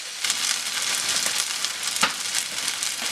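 Fried rice sizzles steadily in a hot pan, a bright crackling hiss with small stirring bursts and one louder pop, close and alone.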